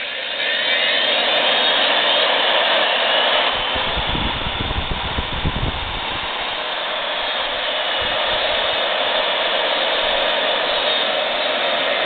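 A Milwaukee 4210-1 magnetic drill press runs forward with a loud, steady motor whine that continues throughout, with a rougher rumbling patch partway through before settling back to an even drone.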